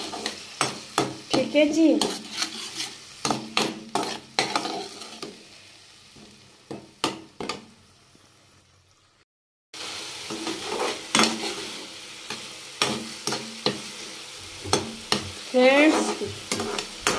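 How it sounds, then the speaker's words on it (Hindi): Tomato gravy sizzles and fries in a pan while a spoon stirs and scrapes it in repeated strokes, close and loud, with a brief silent gap in the middle and a short spoken remark. "टमाटर की ग्रेवी डाल देंगे और इसको अच्छी तरह पकने देंगे।"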